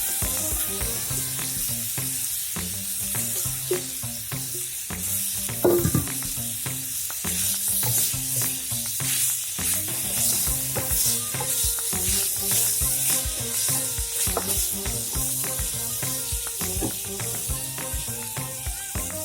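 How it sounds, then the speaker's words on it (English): Marinated beef sizzles loudly in a hot pan with spices while being stirred, a dense continuous frying hiss broken by repeated scraping and clinking of the utensil, close up and with no voices. "Add the marinated beef, stir until it's slightly brown and coated in spices."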